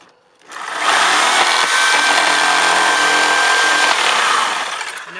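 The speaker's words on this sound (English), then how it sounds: "I'm using a sawzall to cut the nails behind the clapboard above it." A reciprocating saw cuts through nails hidden behind wooden clapboard siding, a loud, steady buzzing rasp that runs near continuously for about four seconds before winding down, with no talk over it.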